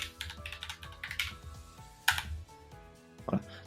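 Quick, irregular keystrokes on a computer keyboard while entering a PowerShell command, close and fairly quiet, with crisp clicks in short bursts and pauses and no talking.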